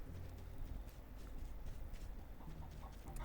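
Horse hooves clip-clop in the Roblox game The Hatch event, a faint, steady run of hoof beats over a dense, muffled game background.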